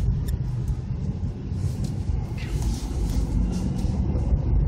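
A manual-transmission car pulling away after a shift into second gear on a residential street, giving off a steady, loud low engine rumble throughout.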